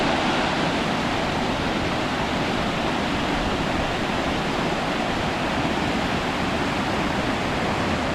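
A waterfall on a river in a gorge at Cotton Hollow Preserve in Glastonbury, Connecticut pours with a steady, loud, close rushing roar that stays even throughout, with no voices.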